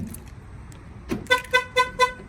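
Car alarm on a Jeep LJ arming as the power door locks engage: a mechanical lock clunk, then four quick, evenly spaced electronic chirps, loud and close, with no talking.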